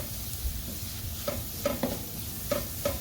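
Beetroot pickle base with chilli powder and turmeric being sautéed in a pan: a faint, steady sizzle with a few soft spoon clicks and scrapes spaced through it, no voices.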